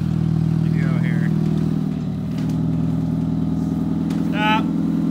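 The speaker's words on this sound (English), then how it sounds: "So we got the Prius loaded up in the trailer." A Toyota Prius drag car with no exhaust idles and creeps onto a trailer, a loud steady low engine drone throughout with brief shouted voices over it.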